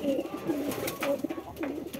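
Pigeons cooing in a pigeon loft during cold weather, repeated soft throaty coos in a loose rhythm, close and clear with faint background noise.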